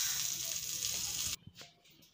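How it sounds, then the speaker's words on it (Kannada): Bread sizzling in butter on a hot tawa over low flame, a steady bright crackle that cuts off abruptly, leaving a few faint clinks. "ಬ್ರೆಡ್ ಅನ್ನು ಹಾಕಿ ಲೋ ಫ್ಲೇಮಿನಲ್ಲಿ ಕಾಯಿಸಿ"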